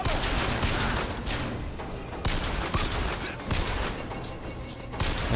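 Dense gunfire in Bioshock Infinite, a rapid string of loud shots and bursts crackling back to back with booming hits, continuous across the whole stretch.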